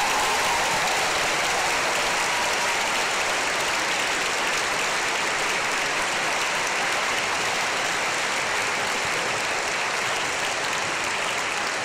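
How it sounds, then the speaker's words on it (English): A large school audience gives sustained applause for the adjudicator of a house song competition, a steady, even roar of many hands clapping that does not let up. "Can we also please give Mr. Will G a huge round of applause for coming to adjudicate this afternoon?"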